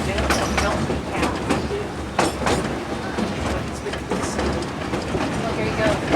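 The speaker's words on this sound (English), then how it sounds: "And there goes the other train." A train on the Cumbres & Toltec Scenic Railroad passing by as a steady rumbling roll with scattered clanks and clicks of the cars, heard from nearby under a constant low drone.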